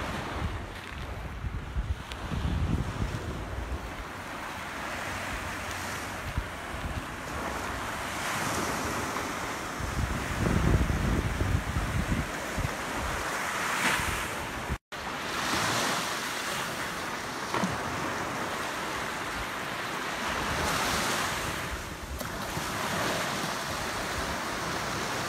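Waves break on a beach at Cayo Costa State Park with a steady, wide-band roar of surf. Gusts of wind buffet the microphone, and one brief dropout cuts in partway through. No one speaks.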